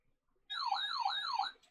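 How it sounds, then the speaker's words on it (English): Weather radio sounding its siren test, a wavering electronic wail that rises and falls in smooth cycles, starting abruptly after brief quiet and cutting off cleanly, close and clear. "let's do a quick siren test just for the lulz."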